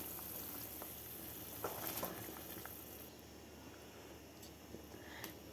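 Water heating to a boil for rice, a steady close bubbling hiss with a few brief louder splashes, no voices.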